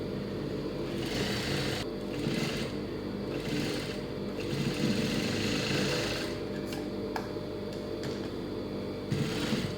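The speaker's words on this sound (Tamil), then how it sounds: "லைட்டாக தான் அப்படியே பிடிச்சி தைக்கணும்." A sewing machine stitches a cross-cut blouse, its motor whirring in steady bursts with brief pauses between runs, close and alone without voices.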